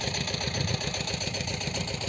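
A small tractor engine runs steadily close by on a hot day in a field where pumpkins are being weeded with a rotary tiller, a continuous rumbling drone with no speech.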